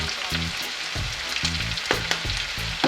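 Onion and curry frying in a pan give a steady, close sizzle, broken by a few stirring scrapes and clanks.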